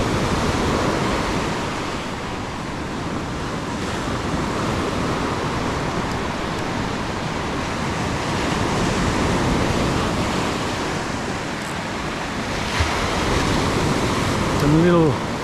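Waves break steadily on a beach shore, a loud, continuous rush of surf that swells and recedes throughout, with no voices over it.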